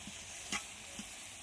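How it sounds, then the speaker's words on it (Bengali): Spice paste and mixed vegetables frying on low heat for a fish dish, heard as a faint, steady sizzle broken by a couple of soft spoon scrapes from stirring. "এই সময় ধিমে আঁচে মশলাটা কষাতে হবে।"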